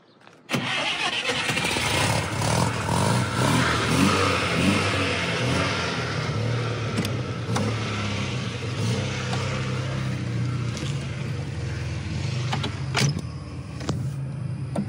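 A Škoda 105 engine starts and settles into a steady, loud idle that runs on continuously, with a few clicks and knocks on top and no talking.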